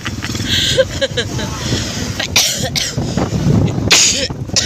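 Several harsh coughs break through, close to the microphone, over background chatter and traffic noise.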